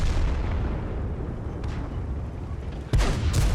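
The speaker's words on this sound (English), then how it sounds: "actually 3 tanks jumped on me" Tank cannon fire in the World of Tanks video game during a close-quarters fight with three enemy tanks: a steady loud battle rumble, then one sharp, heavy blast near the end.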